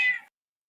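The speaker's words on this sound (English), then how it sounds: "your cat can meow" A cat lets out one short, close meow that cuts off abruptly, followed by silence.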